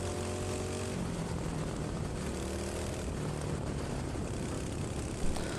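Small two-stroke ProKart racing kart engine droning loud and steady at speed through laps, with a continuous buzzing whine and shifting pitch as it works through the corners.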